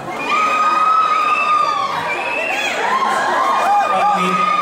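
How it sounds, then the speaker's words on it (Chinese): Concert fans scream in a loud, sustained roar of high-pitched shrieks at a live fan party show, the crowd noise filling the whole stretch without pause. "你往哪边背，他们就要给你尖叫。"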